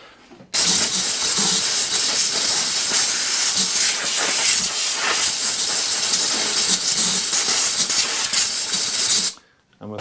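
An ATCO lawnmower engine running hard to blow out WD-40, a loud, steady, close roaring hiss that starts abruptly and cuts off near the end.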